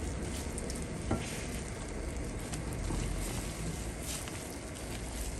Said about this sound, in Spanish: Aquí las vamos a dejar 5 minutitos nada más que hierva, que absorba y estarán listas.